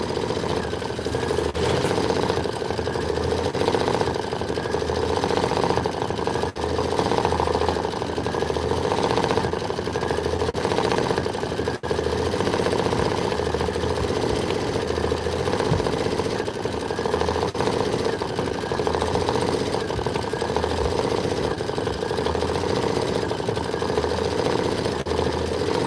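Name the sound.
embroidery sewing machine stitching a pillow design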